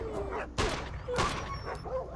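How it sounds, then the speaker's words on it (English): A dog whimpers and yelps after being shot in the Iron Storm game, a few thin cries broken by sharp impacts, close and fairly loud. "don't whimper when I shoot you, it makes me sad"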